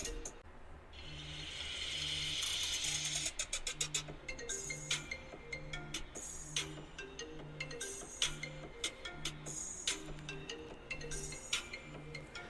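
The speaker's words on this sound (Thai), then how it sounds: "เดี๋ยวเราลองโทรเข้ากันดูนะครับ" A custom ringtone plays on an iPhone during an incoming call, a looping, evenly spaced tonal pattern that repeats steadily at moderate volume, mixed with sharp clicks and light handling noises.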